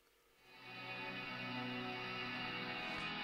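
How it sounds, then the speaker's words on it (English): A shoegaze mix sent through Valhalla Shimmer reverb on the Bloom preset gives a soft, hissy wash of sustained tones that swells up in the first half second and then holds steady, faint and alone. "And also I've sent it out to Valhalla Shimmer, which is a, you know, appropriately shoegazy kind of reverb."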